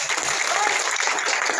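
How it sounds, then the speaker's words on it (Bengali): A meeting audience at a company product session applauds, a dense, steady round of clapping from many hands that carries on evenly at full volume throughout. "সবাই হাততালি ধরে"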